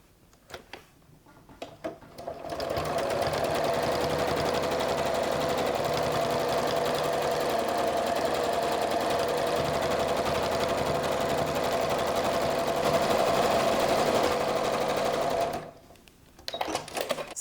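A sewing machine runs steadily for about thirteen seconds, stitching dark green thread grass lines onto a multimedia art card. Its rapid mechanical chatter is close and even, then stops, with quiet handling noises before and after.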